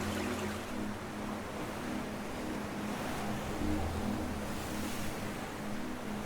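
Pacific Ocean waves wash in as a steady, broad roar of surf, with a faint low rumble beneath, continuous and unbroken throughout without voices.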